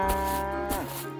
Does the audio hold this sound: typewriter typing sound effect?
no